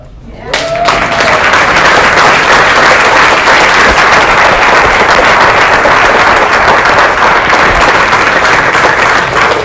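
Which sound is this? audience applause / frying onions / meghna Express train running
audience applause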